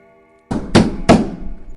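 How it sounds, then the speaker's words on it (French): Three loud, heavy knocks strike a door in quick succession, each a booming thud with a short decaying echo, after near silence. "On frappe à la porte. 3 grands coups viennent de résonner."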